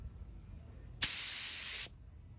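Clear coat sprays from a can onto a model car being given a candy paint finish, one close, steady hiss of under a second that starts and stops sharply, with no talking.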